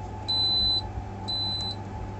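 Low temperature alarm on an LAE AT2-5 digital refrigerator control beeping, two long steady high-pitched beeps about a second apart over a low electrical hum, faint and close.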